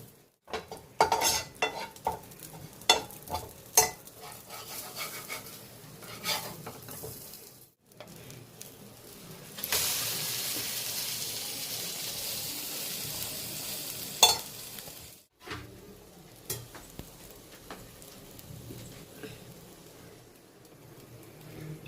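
Chicken bread omelette frying in oil in a pan at an Indian street food stall, with steady sizzling broken by repeated clinks and scrapes of a utensil against the pan, and a louder burst of hiss in the middle.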